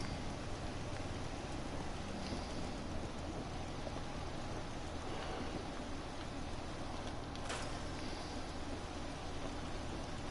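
Rain falls in a PS4 video game, a steady, soft, even hiss with a faint rumble of thunder underneath, continuous throughout.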